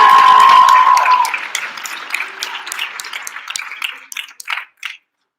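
A school assembly audience claps loudly for a student council. The applause starts full and dense, then thins into scattered individual claps and dies out near the end.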